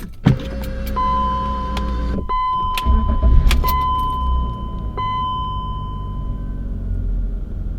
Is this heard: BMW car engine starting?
yes